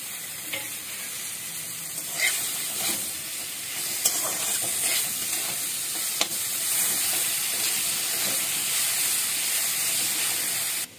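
Chopped ginger and tomato fry in a pan with a constant loud sizzle, a few small pops and stirring scrapes breaking the steady hiss.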